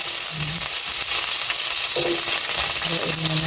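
Onions and pepper stir-frying in a pan for pork sinigang, loud close sizzling with scraping stirs and utensil knocks against the pan, no talking.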